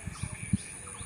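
Soft bird calls and chirps ring out in a hushed early-morning setting in Rangpur, Bangladesh, with hardly anyone around; the sounds are brief, moderately quiet and carry over still air.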